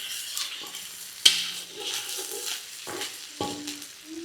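Mutton liver fry is stirred in a pan with salt being mixed in, giving soft, quiet sizzling with intermittent scrapes and a sharp clink of a utensil against the pan.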